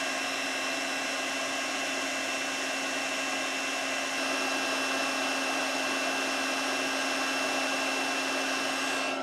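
A Champion forge blower runs with a steady whirring hum and airy rush, constant and close throughout with a faint rise partway, no voices over it.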